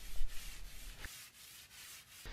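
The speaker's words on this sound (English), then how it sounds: "Then we used sanding paper to sand the deck." Sandpaper rubbed by hand across a textured concrete pool deck, a steady scratchy rasp in repeated strokes with brief pauses, close and alone without talk.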